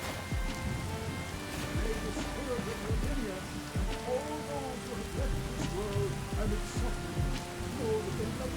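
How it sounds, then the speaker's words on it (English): Steady rainfall in the video game Skyrim fills the soundscape, a dense continuous patter over a low rumble with scattered game tones, while people talk over it throughout. "Man, I can't hear anything over this rain."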